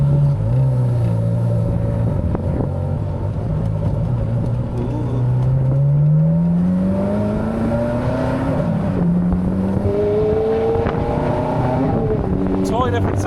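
A Ferrari convertible engine with factory exhaust revs and climbs in pitch as it accelerates, exhaust rumbling loudly up close, with a brief shift and another rising pull.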